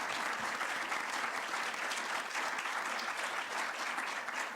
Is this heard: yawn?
no